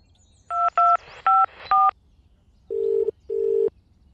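A mobile phone number is keyed in, four short tone beeps in quick succession followed by two longer, lower tones, crisp and close with no other sounds.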